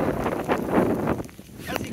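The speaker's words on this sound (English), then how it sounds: "I think the wind might be strong" Gusty wind buffets the microphone outdoors in rain while an apple tree is planted in compost, a steady rough rumble with a voice talking over it.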